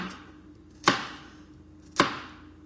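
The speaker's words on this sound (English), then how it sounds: "And I'm not chopping it right because I'm lazy." A knife chops through a cucumber on a board in a quiet kitchen, two crisp, separate cuts about a second apart, close and clear with no talking.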